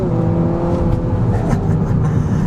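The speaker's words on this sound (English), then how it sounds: "I'm going to put it in the manual mode here. Try some manual shifts. We're in second. Listen to that VTEC." A 2021 Acura ILX A-Spec's Honda VTEC engine revs hard at high rpm in second gear, a loud continuous buzzing roar held steady throughout.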